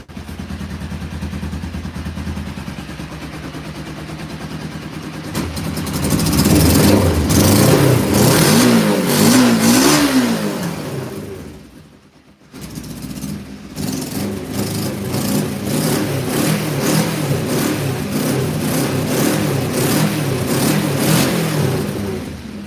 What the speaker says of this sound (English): Sounds like it's only running on one cylinder